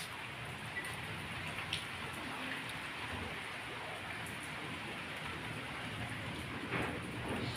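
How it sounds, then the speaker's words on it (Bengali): Steady rain falling outdoors on a rainy afternoon, a dense, even hiss of drops striking surfaces that holds at one level throughout, with no voices. "দেখো গাইস, এই বৃষ্টি পড়ছে"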